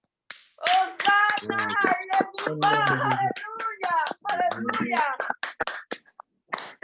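A church congregation clapping in praise of the Lord, with steady rhythmic hand claps running beneath an excited, loud voice speaking throughout.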